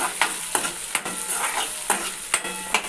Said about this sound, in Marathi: कांदे टाकू थोडे कारले कमी असल्यामुळे मी कांदे थोडे जास्त टाकले आहे त्याला परतून घेऊ